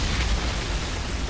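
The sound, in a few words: Eruption skill explosion in the video game Outriders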